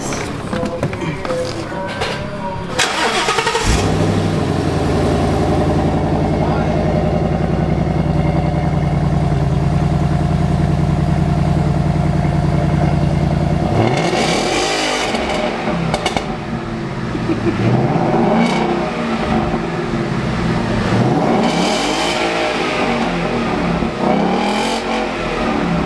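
A 2017 Ford Mustang GT (S550) fitted with an H-pipe exhaust starts and idles with a loud, steady rumble, then is revved several times in rising and falling bursts, close by and with no talking.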